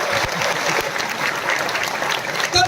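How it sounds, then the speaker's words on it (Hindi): Loud, sustained applause from a crowd at a bank employees' union meeting, a steady wash of many hands clapping with a few voices rising near the end. "अरे अब तो जोर से ताली बजा दीजिए।"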